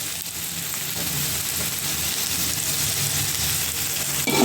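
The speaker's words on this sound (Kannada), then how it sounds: "ಶುಂಠಿ ಬೆಳ್ಳುಳ್ಳಿ ಎಲ್ಲ ಫ್ರೈ ಆಗಿದೆ. ಇವಾಗ ನಾನು ಟೊಮೆಟೊ ಹಾಕ್ತಾಯಿದ್ದೀನಿ." Ginger, garlic and added tomato fry in a pan with a continuous close sizzle and faint stirring, with no voice heard.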